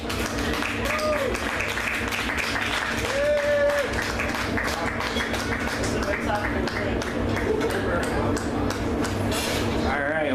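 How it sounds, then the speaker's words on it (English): An audience applauds at the January Shindig event after a performance, with dense, sustained clapping filling the whole stretch while a voice talks over it. "One more round of applause."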